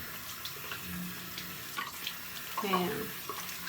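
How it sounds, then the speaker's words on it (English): Tap water runs steadily into a sink as a face is rinsed, a soft continuous hiss with splashing interruptions, under a brief spoken word. "So now I'm gonna go ahead and rinse this off."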